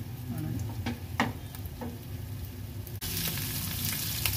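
Pomfret frying in hot oil, a steady broadband sizzle with a few sharper crackles and pops, close and fairly loud, intensifying after a brief pause partway through.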